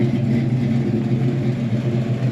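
A 1969 Ford Mustang Fastback's engine runs steadily after starting, a close, continuous low rumble with no voices over it.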